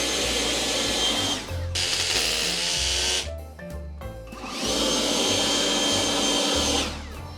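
A vacuum cleaner sucks concrete dust from a freshly drilled hole for a concrete screw, a loud whooshing roar in two bursts with a brief pause between.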